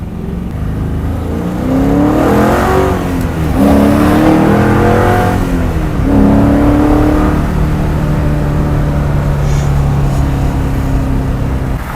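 A Ford Torino's engine revving and accelerating nearby, the loud roar climbing in pitch in repeated surges, each pull rising, dropping back and rising again before settling into a steady drone.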